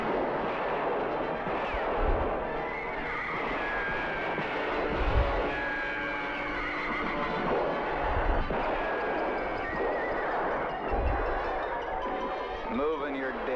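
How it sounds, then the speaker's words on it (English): Gunfire in a movie shootout scene, with repeated low booming shots at roughly regular intervals under a continuous dense mix of score and crowd noise, while voices talk over it. "Now everybody's just shooting wherever."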